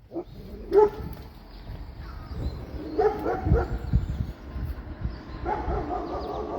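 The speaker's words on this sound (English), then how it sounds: "The dog up the street gets very upset when mommy leaves for work." A dog up the street barks a few times at a distance, sharp yaps rising over a muffled background rumble.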